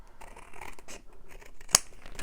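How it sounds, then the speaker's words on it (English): Scissors trim a paper card in a series of close, crisp snips and scraping cuts, with one sharp loud snip near the end. "Let's see if I can cut it, trim it inside the card."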